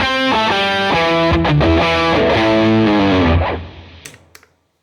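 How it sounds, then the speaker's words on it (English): Electric guitar played through a POG octave pedal and a fuzz pedal together, giving a thick, distorted tone with low and high octaves. A loud sustained riff of chords cuts off, followed by a few quieter picked notes that fade out. "Fuzz and octave together, low and high, is always it's classic, especially low octave with fuzz"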